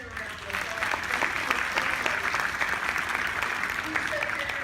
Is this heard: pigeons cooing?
no